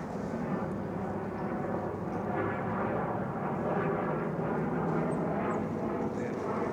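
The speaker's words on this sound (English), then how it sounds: "You can hear the airplane just flying up above me here." An airplane flies overhead out of sight behind trees, a steady, distant low engine rumble droning evenly throughout.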